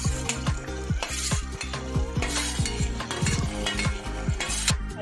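Fried mixed vegetables being stirred into boiling gravy in a pan, with a continuous bubbling sizzle and a rapid run of close spoon scrapes and clanks against the metal.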